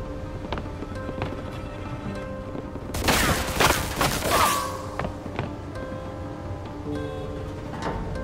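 A dense burst of gunfire in the video game Mafia II erupts mid-clip and lasts about two seconds, loud and crackling against a steady low background hum, with faint clatter before and after.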